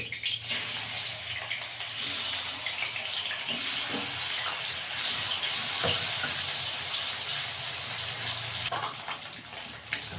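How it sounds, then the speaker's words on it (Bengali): Continuous loud hissing of catla fish pieces frying in hot oil in a wok, a dense spattering crackle that holds steady throughout. "দিয়ে মাছগুলো ভেজে নেব"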